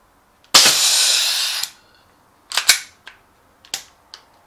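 A KWA Glock 17 airsoft gas pistol gives a long hissing burst of gas, then several short sharp cracks and puffs spaced apart, loud and close.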